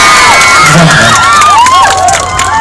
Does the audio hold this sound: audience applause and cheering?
yes